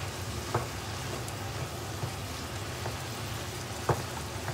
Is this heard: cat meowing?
no